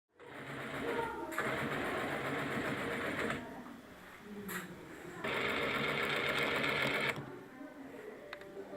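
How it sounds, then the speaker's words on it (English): A sewing machine in a children's facility runs in two long steady bursts with a short pause between, a fast mechanical whirring stitch rhythm, moderately close with no talking. "There are sewing machines in the Magic Land."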